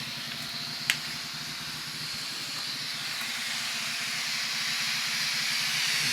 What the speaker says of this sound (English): I already got some steam coming out of here.